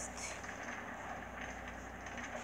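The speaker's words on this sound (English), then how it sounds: "And this train does go fast." A train rolling along rails in Minecraft gives a steady, fast-moving rumble with a faint rhythmic clatter, fairly quiet and continuous throughout.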